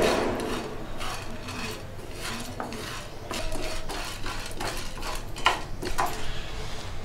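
Dry chana dal stirred and roasted in a pan for homemade sambar powder, a steady scraping rustle with repeated clinks and taps of a spoon against the metal, close and moderately loud throughout.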